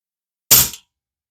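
A single sharp crack from an Apolo air gun firing a pellet, one brief close report that decays within a fraction of a second and is followed by silence.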